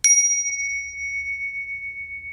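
A single strike of a high-quality bell rung for space clearing in a house, with a sharp attack and a clear, pure tone that rings on steadily for a couple of seconds in a quiet room.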